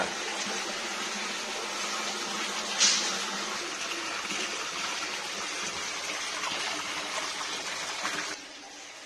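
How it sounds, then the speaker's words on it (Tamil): Water gushing steadily to fill a home swimming pool, a continuous broadband rush that holds at an even level throughout, with a brief louder splash early on and a slight drop near the end. "இப்ப நீச்சல் குளத்துல நாங்க தண்ணி விட்டுக்கிட்டு இருக்கோம்"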